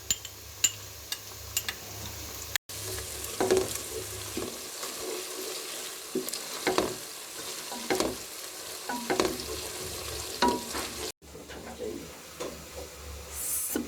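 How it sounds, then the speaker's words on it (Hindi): Ginger and green chili paste stirred into garlic frying in a pot for an almond and gooseberry curry: scraping spoon strokes and clinks over a low sizzle, with short gaps and a faint watery splash. "अब हम इसमें अदरक और मिर्चों का पेस्ट डालेंगे और इसको मिक्स कर लेंगे।"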